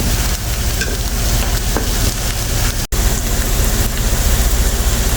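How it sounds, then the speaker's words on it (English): Onion and garlic sauteing in a pot for red beans and rice with pork sausage and pork belly, a loud, dense, continuous sizzle with stirring, close and unbroken apart from a brief cut. "we're about finished sauteing that second batch of onion and garlic with it"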